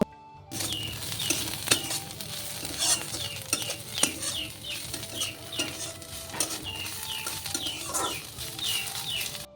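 Greens being fried with a tempering of dried red chilli and garlic, crackling and sizzling loudly and continuously with repeated stirring clatter throughout, no voices.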